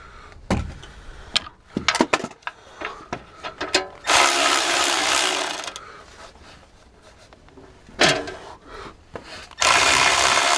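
Ratchet work on a bolt during a gearbox swap on a Mk1 Ford Granada: sharp clicking and scraping bursts, with a few stretches of louder broadband hiss and rustle in between.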